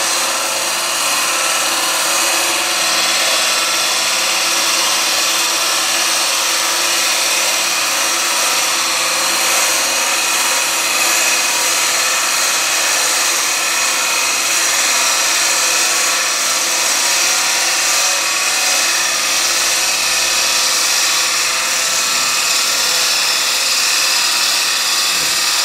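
A chisel cuts a wooden bowl turning on a lathe, bevel rubbing, a steady, loud, hissing scrape with the whir of the lathe running continuously and close throughout.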